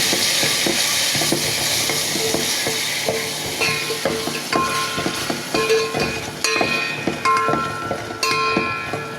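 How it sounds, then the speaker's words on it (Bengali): Pangas fish with chili paste stirred in a frying pan: continuous loud sizzling with repeated scraping, clanking spatula strokes against the pan, no talking. "সব কিছু দিয়ে দিলাম, নাড়াচাড়া করে নেব"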